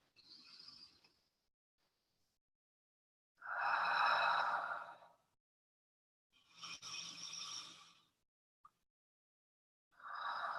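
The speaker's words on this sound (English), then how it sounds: "take 3 really deep, long, slow breaths" Slow, deep breaths drawn in through the nose and released through the mouth, close and soft, each long airy exhale separated by quiet pauses.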